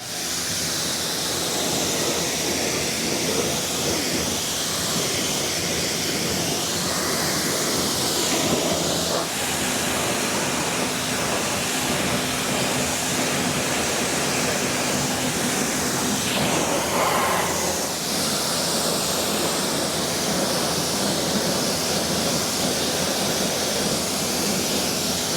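A strong water spray steadily rinses snow-foam pre-wash off car wheels, making a continuous loud hiss with small shifts in tone as the spray moves, and no talking.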